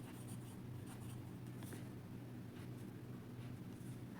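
Marker or chalk scratching steadily on a classroom board during a grammar lesson, a faint continuous writing noise over a low steady hum, with no talking.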